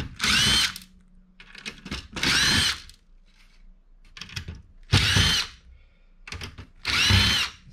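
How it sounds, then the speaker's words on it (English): A power driver zips out screws from a MICROS POS screen with an integrated motherboard, four loud, close bursts of roughly half a second each, with quieter handling and clicks between them. "I got 4 screws to take out."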